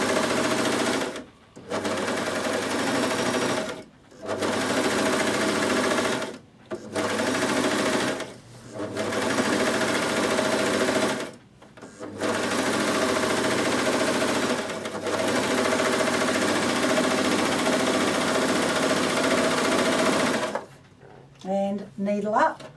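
A Bernette b62 coverstitch machine sews fabric in long, loud continuous runs of rapid mechanical stitching, broken by several brief pauses and ending with a few quieter clicks.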